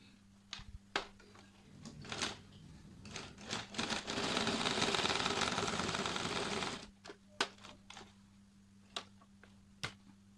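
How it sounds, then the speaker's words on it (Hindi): Sewing machine stitching after the lower thread tension is adjusted: a steady run of rapid stitching for about three seconds, with scattered clicks and handling knocks before and after, fairly quiet and without speech. "अभी हम करते हैं सिलाई।"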